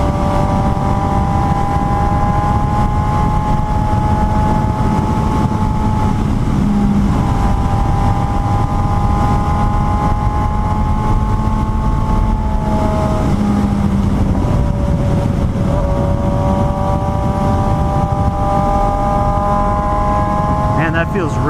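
A 2018 Suzuki GSX-S 750 motorcycle being ridden, its engine droning steadily and rising and falling through gear changes under heavy wind rush, continuous and close.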